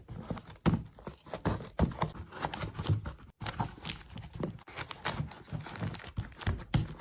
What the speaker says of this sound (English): This vertical form, fill, and seal machine automates snack and food packaging.